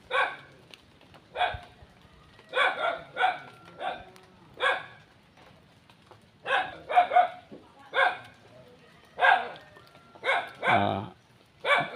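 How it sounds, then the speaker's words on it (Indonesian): Dogs bark in a rural village, giving repeated short woofs in scattered bursts and clusters over about twelve seconds. The barking is fairly close and clear, with quiet gaps between bursts and no talk. "Di awal kampung kita sudah disambut oleh gonggongan anjing"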